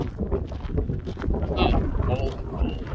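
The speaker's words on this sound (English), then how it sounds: "Not cold, it's just windy." Gusty wind buffets the microphone outdoors on a chilly morning nature walk, a continuous low, rumbling roar that swells and eases without pause across the whole stretch.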